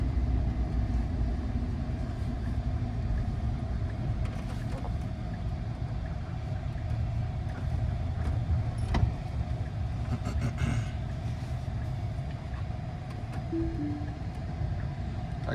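Tesla Cybertruck rolling off a highway exit, a steady interior road hum and tire rumble with faint electric drive whine throughout, no talk.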